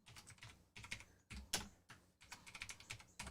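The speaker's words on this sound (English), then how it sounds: "I am typing." Rapid typing on a computer keyboard, the keystrokes clicking in quick irregular bursts with brief pauses, close and quiet, with no one talking.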